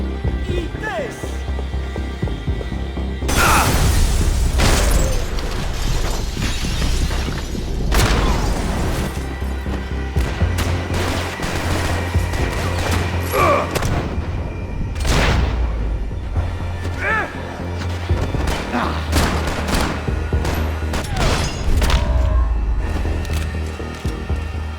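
Gunfire and heavy booms from the Max Payne 3 video game, with repeated loud blasts and sharp bursts over a dense, continuous game soundscape and shouting voices throughout.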